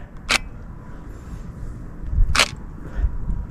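Camera shutter fires twice during manual long-exposure night photography on a cold midnight street, two crisp mechanical clicks about two seconds apart over low outdoor rumble.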